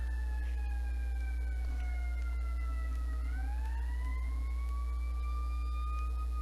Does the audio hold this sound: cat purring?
no